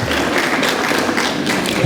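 An audience applauding during a graduation speech: a loud, dense burst of many hands clapping together, steady and close, filling the moment without pause.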